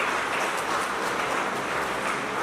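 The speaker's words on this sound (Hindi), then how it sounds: "एक बार जोरदार तालियां खुद के लिए." Loud, dense applause from a crowd at an academy award gathering, a continuous roar of clapping with no pause.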